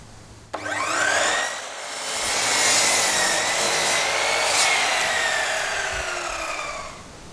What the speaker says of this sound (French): Et pour l'aspect visuel, scie aussi les angles.